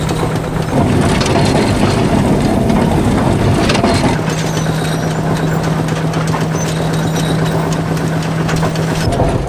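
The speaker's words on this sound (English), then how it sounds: "The straw is being baled by this Powell stationary baler, and it's being driven by a field marshal." A Powell stationary baler baling straw, belt-driven by a Field Marshall tractor at a vintage working event. A loud, steady engine drone runs under rhythmic mechanical thumping and crunching, with no voices.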